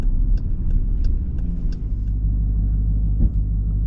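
A 2024 Dodge Durango SRT Hellcat with its 8-speed automatic, heard from inside as a loud deep engine rumble while driving, steady low drone with a brief thump near the end.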